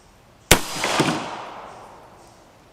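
A single sharp gunshot fired into a ballistic gelatin block with a suppressed test round, a loud crack followed by a brief echo and a slowly fading tail, heard alone.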